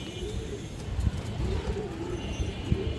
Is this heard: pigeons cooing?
yes